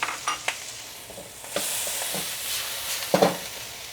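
Meat hits a hot wok with garlic and turns into a steady sizzle and hiss, with scraping stirs and tosses breaking through at intervals. The cooking is close and fairly loud, with no voices.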